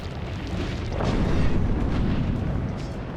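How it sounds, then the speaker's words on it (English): A fire spell sets enemies ablaze in the video game Aarklash: Legacy, giving a loud, roaring, crackling burst that swells and holds without a break. "Set them on fire!"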